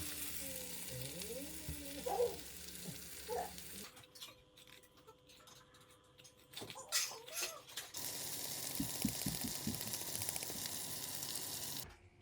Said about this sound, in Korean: 덜어놨던 표고버섯 넣고 소금 한 꼬집, 찐수제 굴소스 둘러서 가볍게 버무리듯 볶아주세요